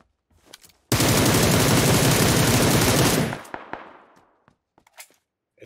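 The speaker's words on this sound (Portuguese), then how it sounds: "É tu atirando? Sim, matei um bot." Sustained automatic gunfire in PUBG Lite, shooting a bot on the Miramar map: a loud, dense rapid-fire burst lasting a little over two seconds, followed by a few scattered distant pops and clicks.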